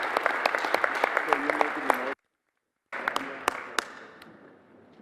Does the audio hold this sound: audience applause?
yes